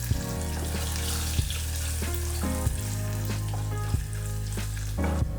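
Hing, fresh curry leaves and garlic cloves sizzle in hot oil with cumin seeds, a steady close crackling fry with a low hum beneath and occasional sharper pops, no voices.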